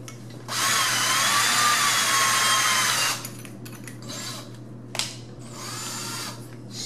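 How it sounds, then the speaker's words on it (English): A power drill whirs at full speed for about three seconds during a door replacement, then stops, followed by quieter short bursts and a clack as the bit is snugged and adjusted nearby. "Then I can put this in my drill."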